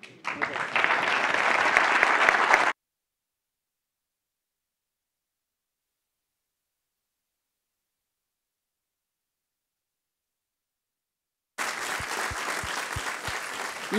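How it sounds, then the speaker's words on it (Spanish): An audience at a Mediterranean-themed conference discussion breaks into loud, dense applause, which stops abruptly, leaving a long silent gap before clapping resumes just as strongly near the end. "Un gran aplauso a Jesús"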